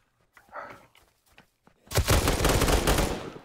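Rapid bursts of gunfire in the zombie survival video game Aftermath, a loud sustained volley of shots filling the second half after a few quieter scattered sounds.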